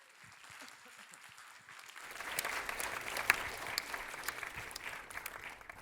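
An audience at the 2014 Oslo Freedom Forum claps. Scattered light claps swell after a couple of seconds into steady, fairly loud applause from the crowd that carries to the end.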